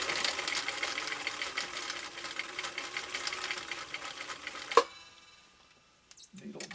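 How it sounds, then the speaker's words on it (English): A Husqvarna Viking CI 21A sewing machine runs at regular speed, a steady buzzing stitch held close for about five seconds, ending in a sharp click before near silence and a faint bump. "So straight stitch down and around, and then we will go to a zigzag down the middle."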